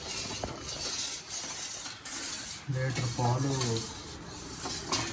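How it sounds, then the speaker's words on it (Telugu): A pot of one litre of milk with almonds is stirred, a steady scrape and clink of the spoon against the pot under a constant background hiss, with a voice speaking briefly partway through. "లీటర్ పాలు అలా కలుపుతూనే ఉండాలి. అడుగు మాత్రం అంటకూడదు."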